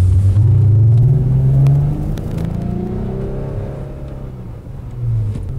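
A Lexus IS with its most powerful engine, set to normal drive mode, revs loudly and close by. A deep, throaty rumble climbs briefly early on, then settles into a steady, lower drone.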